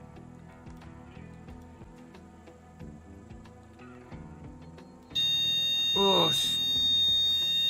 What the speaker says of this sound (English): that'll go in a minute, that buzz, guys. Alarm test.